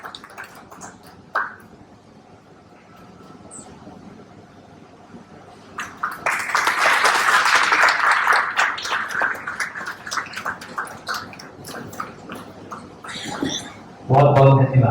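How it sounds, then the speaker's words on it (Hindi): An audience applauds loudly to honour a shining star from Varanasi at an awards ceremony for unsung everyday heroes. The steady clapping swells for several seconds, with a voice speaking before it and again as it fades. "पूरी ऊर्जा के साथ जोरदार तालियों से वाराणसी के इस चमकते सितारे का सम्मान करते"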